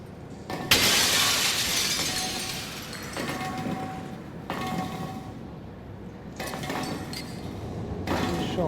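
Glass shatters in the sci-fi horror video game SOMA, a loud crash followed by washes of tinkling debris and recurring bursts of breaking and mechanical noise over several seconds.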